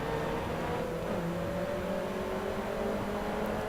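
A racing car engine in the driving game Grid Autosport drones steadily at a constant loud level, its pitch climbing slowly as the car accelerates, with no voices over it.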